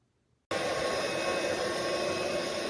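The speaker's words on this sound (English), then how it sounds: "It's a great little vacuum." A Roomie Tec SlimVac cordless vacuum cleaner switches on abruptly after half a second of quiet, then runs with a steady, loud, broadband whir and no change in pitch.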